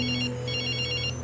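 A cell phone rings at a gas station during a test, two short bursts of electronic ringtone over a steady low engine-like hum, clear and continuous.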